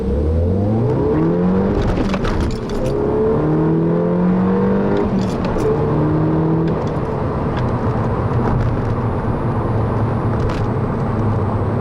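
A 2010 Volkswagen GTI heard from inside on a test drive, its engine revving up through rising sweeps as it accelerates, then settling into a steady drone with road and wind noise, loud and continuous.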